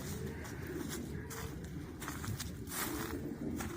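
Belgian-breed racing pigeons coo in a loft, low throaty calls mixed with shuffling and rustling movement over constant background noise.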